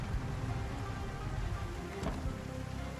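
Steady rain in the zombie survival game Project Zomboid, a dense continuous patter of drops with a low rumbling undertone, moderately quiet, with no talking.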